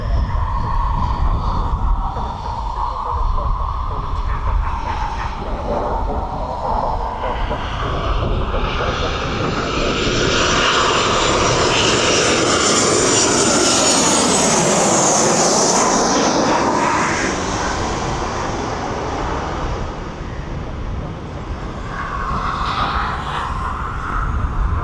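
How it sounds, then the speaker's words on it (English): A Ryanair jet on a training flight at East Midlands Airport passes overhead with a long engine roar that builds to a close, loud peak, falls in pitch as it goes by, then fades. "Here he is again, that Ryanair training flight."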